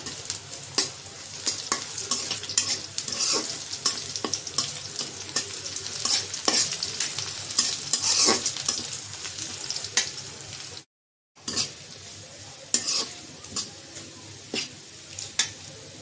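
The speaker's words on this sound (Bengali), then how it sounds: "পেঁয়াজটা ভেজে নেব। পেঁয়াজ আর রসুন, তেজপাতা দিয়ে দিলাম একটা।" Chopped onion, garlic and a bay leaf fry in a pan for a Bengali vegetable dish, giving a steady, close sizzle with scattered spatula scrapes and stirring clatter, briefly dropping out near the end before resuming.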